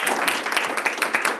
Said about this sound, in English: I just quick round of applause for her again.